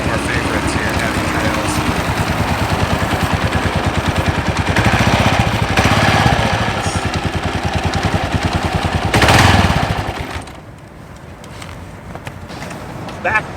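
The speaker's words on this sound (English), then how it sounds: "here he comes right now. On the old 2009 KLR 650" A 2009 Kawasaki KLR 650 single-cylinder dual sport motorcycle approaches with a loud, steady engine drone that swells as it nears and then drops off to a lower idle, with people talking over it.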